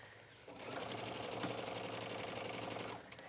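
A sewing machine stitches trim onto a hooded terry towel, running steadily and close for nearly three seconds over a serged edge, then stopping.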